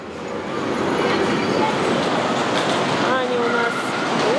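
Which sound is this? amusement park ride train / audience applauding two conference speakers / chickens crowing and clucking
amusement park ride train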